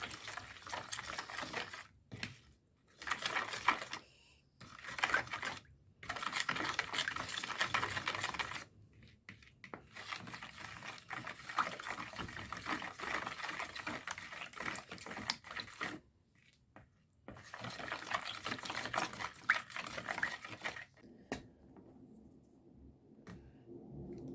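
Danish roll dough ingredients are mixed by hand in a bowl, giving bursts of close scraping, stirring and clattering with short silent pauses between them, and no one speaking.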